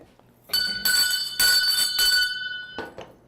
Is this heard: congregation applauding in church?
no